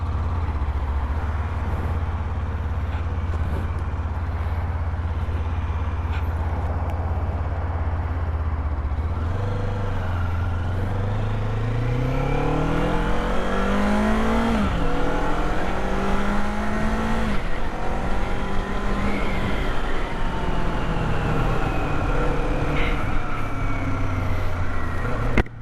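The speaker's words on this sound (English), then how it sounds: "All right, let's go ride this motorcycle." A 2025 Kawasaki Z500 SE ABS motorcycle with only one mile on it sets off and accelerates, its engine climbing through rising gear sweeps from a low idle-like drone into a louder, steady ride.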